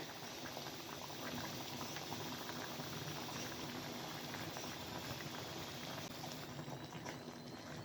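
Water boils steadily in a cooking pot for chicken biryani, a dense, continuous bubbling roar that holds at an even level throughout with no voices.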